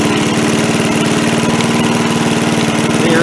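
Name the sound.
MTD push mower engine being throttled up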